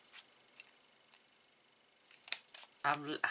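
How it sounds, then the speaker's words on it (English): A few short, crisp snips of herb scissors cutting paper, spaced out at first and then clustered near the end, where a voice briefly begins to speak. "my herb scissors"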